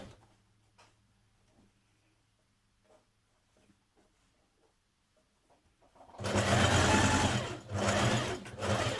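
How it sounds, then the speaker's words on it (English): A sewing machine understitches the fly facing of Simplicity 8518 lounge trousers a few millimetres from the edge. After about six seconds of near silence it starts up loud and close, running in one steady burst with a brief slowdown. "Understitch your fly facing a couple of millimetres from the edge"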